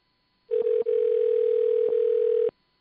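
A telephone dial tone heard while calling a bowling alley, one loud steady electronic tone that holds for about two seconds and then stops abruptly, with a couple of faint clicks inside it.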